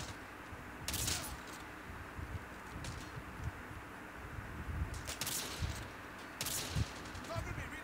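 Gunfire in the mobile shooter game Call of Duty: Mobile, with a few separate sharp shot bursts spread across the clip over constant game background noise, while someone talks excitedly throughout.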